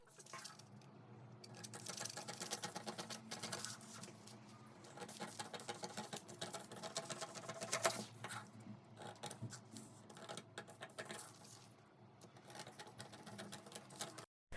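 Scissors cut out fabric pattern pieces for a dress, making quiet, close, irregular snipping and rustling sounds that continue steadily without talk.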